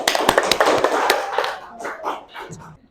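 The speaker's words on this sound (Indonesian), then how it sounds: "Tepuk tangan untuk kelompok 5." Classroom applause for group 5 after a student presentation, a short burst of scattered, uneven clapping from a group of children that thins out and fades within a few seconds.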